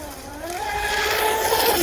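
A small TFL Bolt RC boat runs on 2S power with a Surpass Hobby 2838 brushless motor, giving a loud, steady high-pitched whine over water that rises slightly in pitch as it speeds along.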